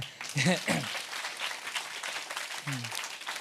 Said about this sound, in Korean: 박수 치셔도 됩니다